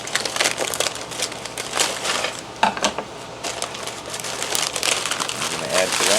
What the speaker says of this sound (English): Then we got a 14-ounce bag of peas and carrots.